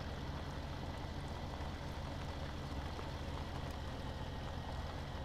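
A tractor engine idles in Farming Simulator 17, giving a steady, low, droning rumble that holds constant and fairly loud throughout with no talk.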